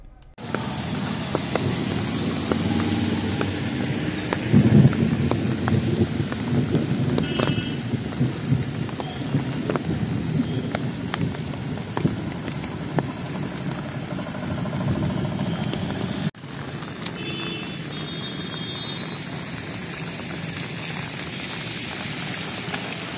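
Steady rain falls continuously and close, with a dense hiss of drops and a low vehicle engine rumble running beneath it.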